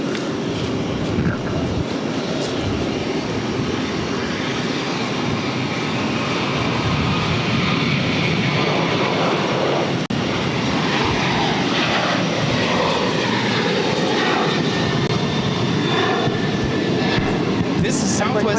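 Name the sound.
Southwest Airlines Boeing 737-800 taking off from Boston Logan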